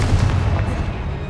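A Confringo fire spell blast in the video game Hogwarts Legacy, a deep, booming burst that rumbles for about a second, loud and close, with no voices.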